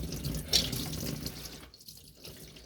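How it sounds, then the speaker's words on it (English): Coolant running out of a pulled radiator hose on a Chevy Trailblazer during a radiator replacement, a quiet steady pour of liquid with a brief splash early on that thins and fades partway through. "we're just gonna pull this hose all the way off and just make sure it drains out all of it"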